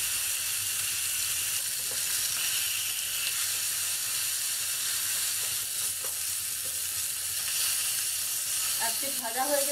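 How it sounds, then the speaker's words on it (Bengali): Turmeric-coated rohu fish pieces fry in about two tablespoons of hot oil, giving a steady close sizzle and hiss that runs throughout with little change, ending in a brief burst of louder spattering. "এরপর মাছগুলো এর মধ্যে আমি 2 পিঠ ভালোভাবে ভেজে নেব"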